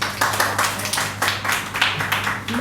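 Audience applause at a poetry open mic, steady and dense clapping from a crowd that keeps going for a few seconds at even loudness with faint voices underneath.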